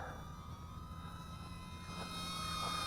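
A Hubsan Nano Q4 H002 camera drone flies outdoors with a thin, steady high-pitched motor whine over a broad whooshing hiss, holding constant and swelling slightly near the end, no speech.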